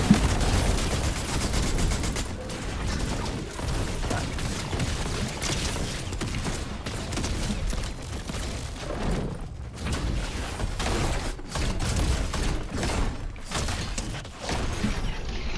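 Rapid bursts of gunfire fill a video game shootout, dense overlapping shots and mechanical clatter running loud and continuous without pause.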